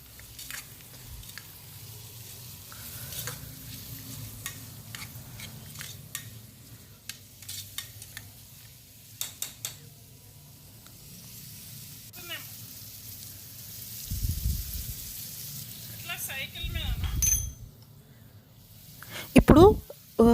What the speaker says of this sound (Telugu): దీన్ని మిక్స్ చేసి ఇంకా 2 మినిట్స్ ఫ్రై చేద్దామండి.